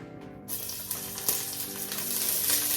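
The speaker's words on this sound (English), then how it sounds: "We're gonna go ahead and add the onions in." Onions dropped into hot olive oil in a pan for beef chili burst into a loud, close, crackling sizzle that keeps hissing steadily after a brief quiet start.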